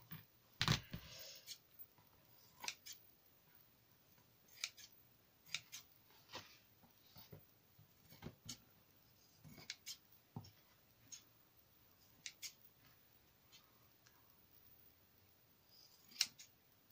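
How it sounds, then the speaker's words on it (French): Scissors trimming excess paper from a handmade booklet, a series of soft, sparse snips and clicks spread across a quiet room, some louder and close, with long gaps between them. "Je vais couper le superflu."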